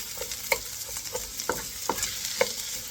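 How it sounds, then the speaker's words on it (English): Onions sautéing in a pan for Filipino tortang giniling, a steady close sizzle broken by several sharp scrapes and clinks of a utensil stirring them at a loose rhythm, with no talk. "I'm gonna continue sauteing it until it turns like a little brown."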